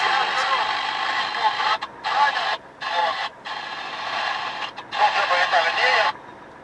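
Crackling CB radio static in a truck cab on a Volvo long-haul road trip, a steady hiss broken by several short gaps as the handset keys on and off, with a voice talking over it.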